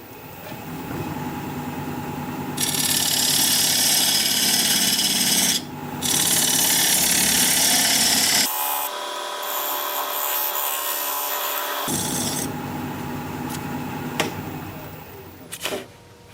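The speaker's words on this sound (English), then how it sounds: "I'm going to use this diamond point tool to square up the sides of the tenon." Wood lathe turning a black cherry blank with a diamond point tool, a steady motor hum broken by loud, sustained scraping cuts that start and stop several times, with no talk.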